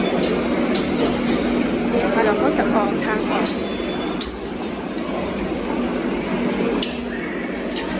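Continuous rumble and rattle of a Madrid metro train in motion with intermittent clanks, while someone talks over it.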